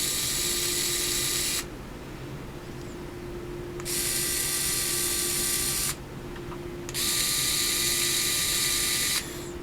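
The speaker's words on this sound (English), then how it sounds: "It sounds like a dentist drill, but it's beautiful." A Homtronics small cordless electric screwdriver from a 37-in-1 set whirs in three separate bursts of a couple of seconds each, a high, steady, dentist-drill-like whine with short pauses between runs.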